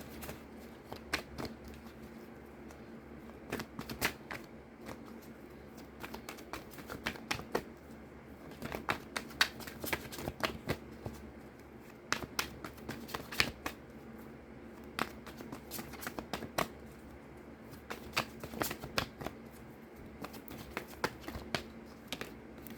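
Tarot cards shuffled and drawn by hand, a steady stream of soft riffling flicks and sharp card snaps repeating throughout at close range, with no talking.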